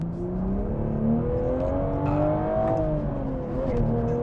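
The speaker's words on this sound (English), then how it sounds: "you can hear that lovely exhaust is absolutely fantastic. Doing a little acceleration here for you guys." Exhaust note of a manual 2024 Toyota Supra 3.0 under acceleration, a steady droning rise in engine pitch heard from inside the cabin, moderately loud and without talk.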